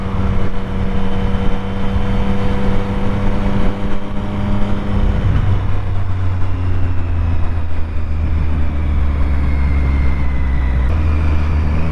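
Motorcycle engine droning steadily and loud as the bike rides along twisty roads, pitch dropping once with a gear change and then holding a low, even hum.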